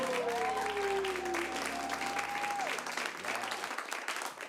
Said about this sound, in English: Give a big round of applause to Knut Snortum on the keys over here